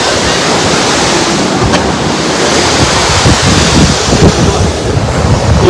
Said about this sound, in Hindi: इतना प्यारा वाटरफॉल है ये इतना ऊपर से आ रहा है